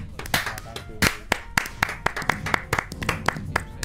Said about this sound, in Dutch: Even klappen, jongens.